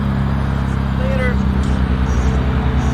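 A McLaren Speedtail hypercar pulls away with a loud, steady, close-up engine drone, its deep rumble throbbing in a rapid pulse throughout, with brief muffled voices mixed in.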